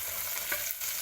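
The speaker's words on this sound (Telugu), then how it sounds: "ఇవన్నీ ఇలా ఫ్రై అయిన తర్వాత మనం ఉడికించుకున్న శనగలను ఇందులో వేసుకోవాలి." Green chilli and onion frying in a pan for a chickpea pulao, a steady broadband sizzle with a brief stir or drop of ingredients partway through, alone and without talk.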